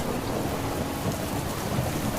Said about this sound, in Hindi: लगता है भगवान ने हमारी सुन ली, बरसात शुरू हो गई है।